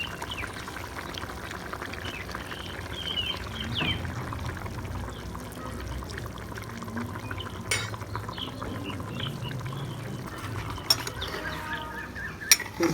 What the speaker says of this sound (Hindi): तो इसमें हम शामिल करेंगे कुकिंग ऑयल